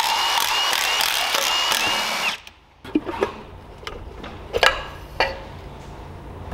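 Mechanical work on a worn, heavily used Predator 212cc Hemi small engine. A steady tool whir runs first, then stops and gives way to a few clacks and metallic knocks as the side cover comes off. It is close and fairly loud, with no talk.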